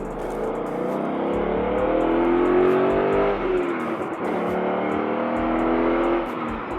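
A car accelerates hard in a race from the cab of a Toyota Tacoma, engine pitch climbing through gear changes, loud and close with steady road noise.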